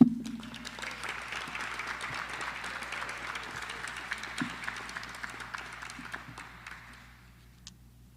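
Steady applause from an audience at an EMS cadet graduation ceremony, many hands clapping evenly and at a moderate distance for several seconds before it thins out and fades.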